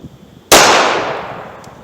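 A single loud 9mm Remington HTP +P 115 grain gunshot fired into wood cracks sharply near the start, then a long ringing decay fades over more than a second.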